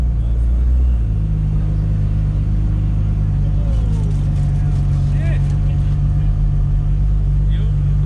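A car drives along towing a parachute behind it, its engine giving a steady, loud low rumble throughout, with a voice talking over it.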